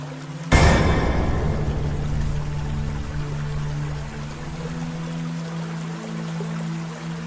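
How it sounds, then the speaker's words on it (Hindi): A waterfall stream beside a Mahadev temple pours in a steady, full rush of water. A sharp splash at the start gives way to continuous flowing noise with a low hum underneath. "अब विश्राम करने के बाद संताजी पास के महादेव मंदिर के झरने में स्नान करने का विचार किया।"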